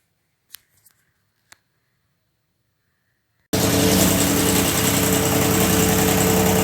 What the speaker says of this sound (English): Now we will start the engine.